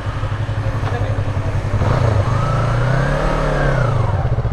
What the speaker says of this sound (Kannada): ಇಲ್ಲಿ ಒಂಥರ ಟಕ್ ಟಕ್ ಅಂತ ಸೌಂಡ್ ಬರ್ತಾ ಇದೆ.